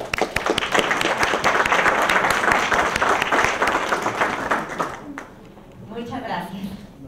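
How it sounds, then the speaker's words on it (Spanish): Audience applause rings out steadily for about five seconds at a talk introducing a transparency law, then fades as a voice begins speaking. "démosle la bienvenida con un aplauso también."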